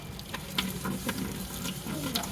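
Water splashes and trickles into a freshly cleaned kitchen sink at close range, with faint clinks and a soft, uneven rinse.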